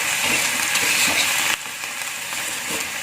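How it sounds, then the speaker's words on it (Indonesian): Fern greens wilt in a hot pan for a spicy stir-fry, a steady close sizzle with a few soft stirring scrapes that settles slightly quieter halfway through. "Pakisnya agak sedikit layu, aduk rata dulu"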